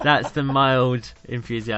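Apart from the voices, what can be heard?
No distinct noise like a dog, phone or traffic.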